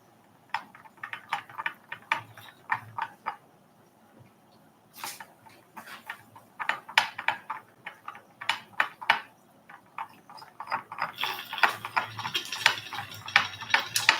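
A stirrer clinks and taps against a container while chemicals are mixed in a nanotechnology lab. The light ticking strikes come in irregular bursts, close and fairly quiet, with no talk.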